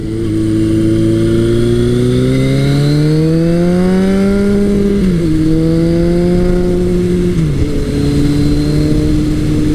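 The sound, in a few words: motorcycle engine revving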